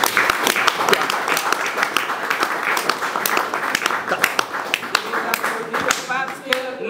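An audience at a formal meeting of the CEEAC commission claps for the women being honoured, dense applause running throughout, with a voice speaking over it.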